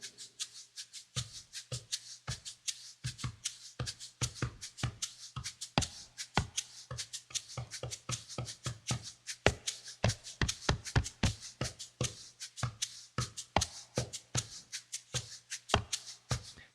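Shakers and congas improvise together, a busy stream of quick dry rattling shakes and soft hand hits in loose, shifting rhythm, close and moderately quiet without voices.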